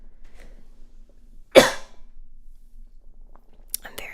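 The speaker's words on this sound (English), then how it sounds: "1 second, I have to cough." A single close, sharp human cough breaks an otherwise quiet room, followed a few seconds later by faint small clicks.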